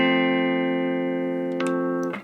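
Epiphone Les Paul Goldtop with both pickups selected through a Vox AC4TV amp, one long sustained electric guitar chord ringing steadily, then brief pick and string noise at the end.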